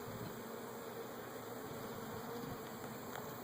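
Honeybees at an opened beehive, agitated while a pry bar is used on the frames, make a dense, continuous buzz that fills the space close by, steady and without talk.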